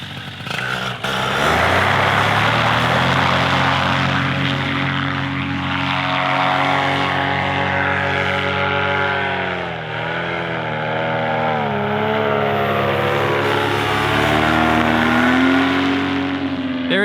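Paramotor engine droning steadily overhead in flight, heard from the ground, a loud sustained buzzing whose pitch wavers and bends as the craft passes and turns.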